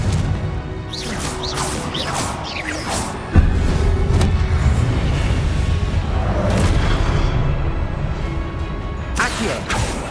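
Confringo fire spell in Hogwarts Legacy, a sudden booming explosion that cuts into ongoing loud combat noise of whooshes, crashes and rumbling, with the clamor continuing steadily afterward.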